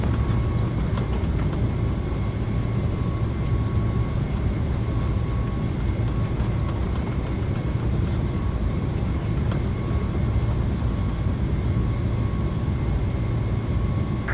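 Boeing 757-200F freighter jet in X-Plane 12 on its takeoff roll, with a steady, loud engine roar and rumble that holds constant throughout, no voices.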